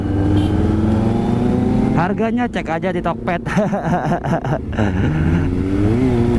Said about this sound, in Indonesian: Pokoknya knalpotnya ini knalpot Prospeed ya cuy ya.